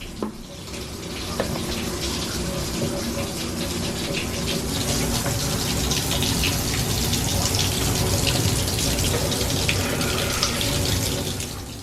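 Warm water runs steadily from a bathroom tap to soak a sweater, a close, continuous gushing rush that lasts throughout without a break.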